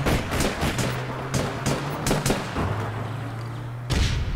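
Rapid gunfire from the online game APB Reloaded, with several bursts of shots crackling in quick succession and overlapping, loud and close over a steady low game hum, with no talking.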